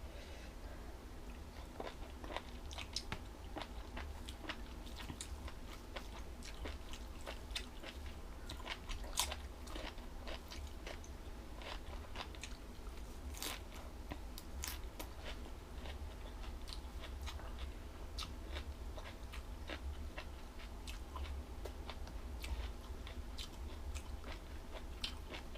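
Someone chews jellyfish dipped in seafood sauce up close. Moist crunching and biting clicks repeat irregularly over a long stretch, faint against a steady low background hum.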